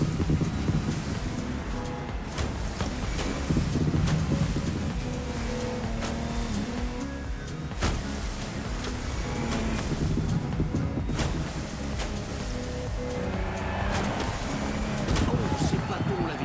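A Lamborghini Technomar speedboat engine in The Crew Motorfest racing video game, with a steady roaring drone and rushing water and wind across the whole stretch. A commentator talks over it at times.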